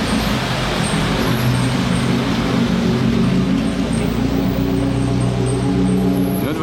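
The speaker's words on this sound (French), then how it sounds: "Une autre voiture qui arrive du même style que celle-ci, là." Bentley cars arrive at a Bonhams car event, their engines forming a steady, close, rumbling drone against continuous traffic-like noise with no pauses.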